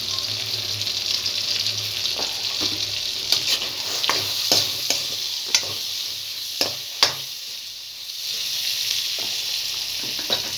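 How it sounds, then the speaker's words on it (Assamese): Leta, an edible river fish, fries in a pan at home with onion and green chilli, giving a steady close sizzle broken by several sharp spatula scrapes and stirs. "তো আজি দুপৰীয়া কি কৰিছোঁ, এই লেটাখিনি ভাজি লৈছোঁ।"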